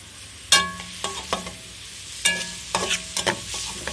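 Fried rice ingredients, carrots among them, stirred and fried in a pan over medium heat, with several sharp scraping strokes in two bursts over a steady low sizzle.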